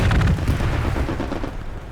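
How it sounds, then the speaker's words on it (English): Explosions boom in a competitive team video game match, starting with a heavy blast and trailing into a rolling, gradually fading rumble. "it's a lot of explosions"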